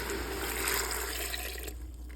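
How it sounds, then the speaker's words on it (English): Water rushes and splashes as it is poured over frozen vegetables in a pot for veggie stock, a steady close pour that cuts off near the end. "just take water and just pour it over my veggies"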